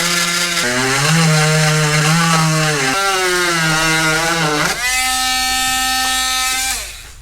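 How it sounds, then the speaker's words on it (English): A Dremel rotary tool cuts an opening in a Honda S2000 interior trim panel, a loud buzzing whine that shifts pitch as it bites into the plastic, running continuously for about seven seconds before fading. "Let's go ahead, get the Dremel, and we'll cut it out."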